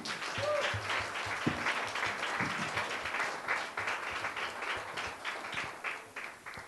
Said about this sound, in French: applaudissez pour Casarema